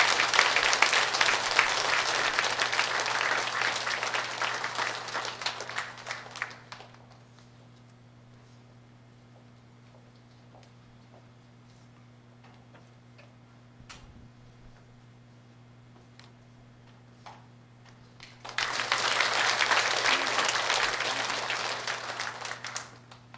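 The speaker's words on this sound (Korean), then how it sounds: "환영의 박수로 모시겠습니다." Welcoming applause from a church audience greets a visiting priest of the Busan diocese at a confirmation catechism lecture, with a loud burst of clapping at the start, a long quiet stretch, and a second full round near the end.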